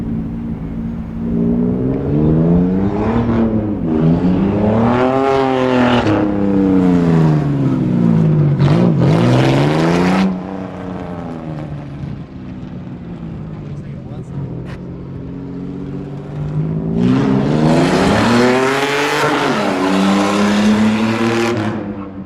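A race car being driven to bed in its brakes; the engine rises and falls in repeated revving sweeps, loud and close, with a quieter stretch in the middle before it climbs again, and voices talk over it.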